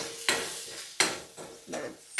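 Green chillies sautéing in a pan over reduced flame for street-style Maggi, with three or four sharp scraping stirs of a utensil against the pan over a soft sizzle.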